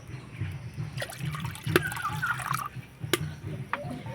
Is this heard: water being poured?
yes